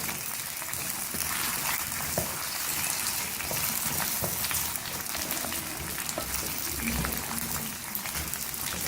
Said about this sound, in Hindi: अब इसमें हम अपने आलू शामिल करेंगे, इसको हल्का सा हम फ्राई करेंगे।